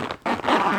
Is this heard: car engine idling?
no